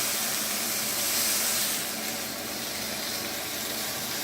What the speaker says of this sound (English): You then take your beef fillet, maybe turn it again like that.